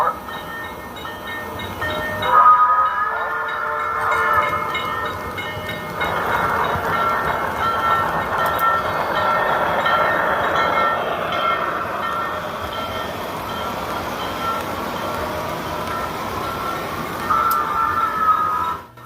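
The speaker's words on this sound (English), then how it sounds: "It was a lot of fun to run the trains today." Model MU locomotives running on a layout track, a steady rolling rumble with rhythmic wheel clatter, rising and falling as the train passes, with occasional higher squeals or horn-like tones, close and fairly loud with no talk.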